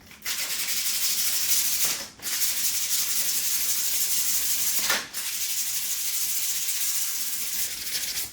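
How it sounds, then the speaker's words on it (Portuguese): Sandpaper of 280 grit rubs steadily along the side of a double sheath made for an axe and knife, giving a continuous close scratching hiss that stops briefly twice as the strokes change. "E o que eu vou fazer agora é lixar a lateral, assim."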